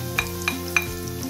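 Garlic and onion sizzle in a hot pan for Filipino kare-kare, with a steady fry hiss and three light scrapes of a spoon stirring.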